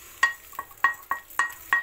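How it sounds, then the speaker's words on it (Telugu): Mustard seeds dry roasting in a pan give a series of sharp, separate crackles and pops, about six distinct bursts in under two seconds, close and fairly loud against a quiet background. "చిటపటలు చిటపటలు అనే వరకు ఆవాలని వేయించుకుందాం అండి"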